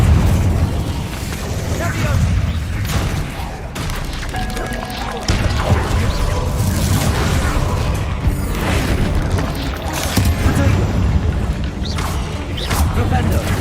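An Incendio fire spell cast in the Hogwarts Legacy video game, heard as a dense, sustained roar of booming, crackling bursts with mechanical clatter layered throughout, loud and close.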